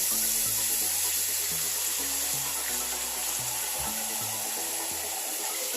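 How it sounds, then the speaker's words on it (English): Water runs from a tap into a sink as a 2x2 puzzle cube is filled and rinsed during cleaning, a steady close hiss lasting throughout with faint background music beneath. "Fill it with water."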